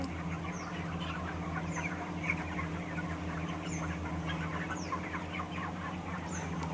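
Chickens cluck and chirp steadily in a large poultry shed, with a constant low mechanical hum underneath.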